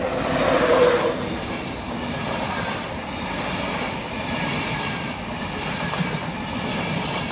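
A slow train rolls through Peterborough station with a steady, continuous rumble and faint wheel clatter, nearby and unbroken throughout.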